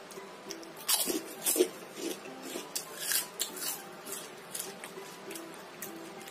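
Crunchy homemade krupuk crackers are bitten and chewed close up, giving a string of crisp, crackling crunches with uneven rhythm that fade slightly toward the end.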